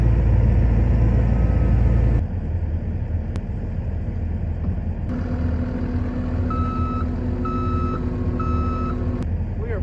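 A skid loader working on backyard golf hole site clearing runs with a loud engine rumble that drops in intensity, then steady reversing beeps sound repeatedly in an even rhythm while the machine keeps running nearby.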